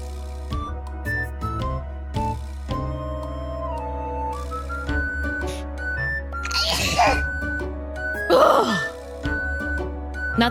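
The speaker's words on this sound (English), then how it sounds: "It was a very powerful sneeze." Two short, sharp sneeze bursts from a streamer come a second or so apart, standing out over a quiet background of steady electronic tones.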